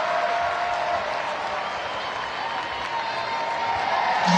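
Full-capacity stadium crowd at a Savannah Bananas baseball game against the Party Animals in Columbus, Ohio, clapping for an injured player; steady broad wash of applause and crowd noise throughout, fairly loud and continuous.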